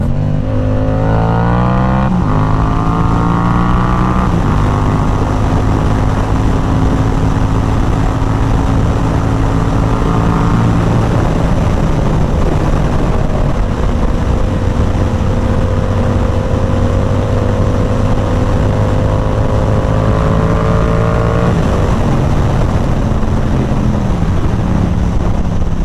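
A Yamaha R7 motorcycle engine revs steadily through a corner, its loud, continuous tone climbing in pitch, settling briefly, then rising again with each gear and throttle change, heard up close with no voices.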